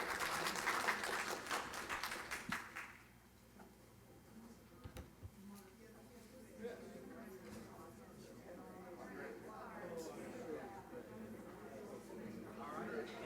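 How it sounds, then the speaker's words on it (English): Applause at a legislative redistricting breakfast, a burst of audience clapping that fades after a few seconds into quiet room murmur and speech, all faint and distant. "Eddie Grime, Matt Dameron, Melissa Hasley, a round of applause."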